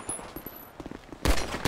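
GTA 5 video game gunfire, a quick run of close, sharp shots followed by two loud, heavy blasts near the end, with no talking.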